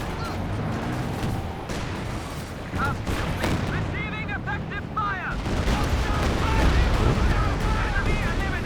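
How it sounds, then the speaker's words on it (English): A walking Stuka rocket barrage in Company of Heroes 2 rolls through as a dense chain of booming impacts and rumbling explosions, loud and continuous, with scattered battlefield noise around it. "Pretty good walking Stuka barrage"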